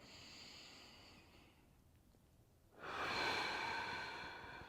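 Deep, audible breathing during a back stretch for a tweaked back, a long steady breath fading into quiet and then a louder, airy exhale swelling near the end, close and alone with no talk.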